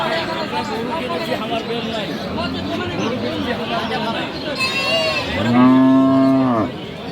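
Sahiwal cows with calves at the Aftabganj livestock market in Dinajpur give a loud, long, close moo that rises over constant crowd chatter and nearby talk.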